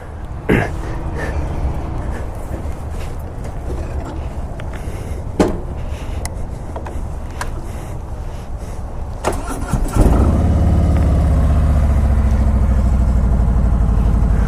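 A 2018 Harley Davidson Road Glide with a 107 engine rumbles as it is cranked and fired, with a few clicks first, then it settles into a loud, close, steady throbbing idle.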